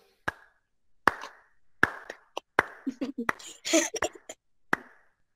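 Sparse, separate hand claps sound during an online parenting session on Quran learning. About a dozen sharp, dry claps come at uneven intervals, with a short burst of voice in the middle.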